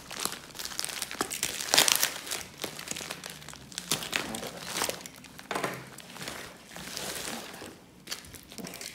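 A small parcel of diamond painting accessories being unwrapped: close, irregular crinkling and crumpling of packaging with several louder rustling bursts and brief pauses, and no talking.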